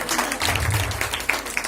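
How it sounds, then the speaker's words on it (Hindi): An audience at a civic event with the mayor of Jabalpur applauding, producing a dense, steady wash of many hands clapping at once, moderately loud and sustained throughout. "एक बार जोरदार तालियां"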